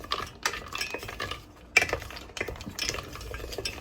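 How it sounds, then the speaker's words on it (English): Metal utensil scraping and clinking against a pot in irregular strokes while stirring melting chocolate, close and fairly loud, with no talking. "I'm gonna be melting the chocolate."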